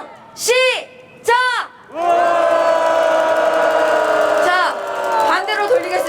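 A large crowd at a 2021 anti-US-military protest rally in Korea shouts in unison, two short loud bursts followed by a long, sustained roar of massed voices rising together.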